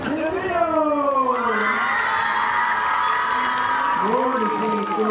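Crowd at a high school football game cheering and whooping as a varsity cheerleader is introduced, a sustained wash of shouts under an announcer's amplified voice.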